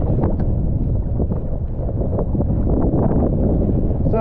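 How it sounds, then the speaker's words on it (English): A kayak paddled across Loch Sween, with continuous close rumble of wind buffeting and water wash dominating the sound, dense and loud throughout. "Much easier paddling now."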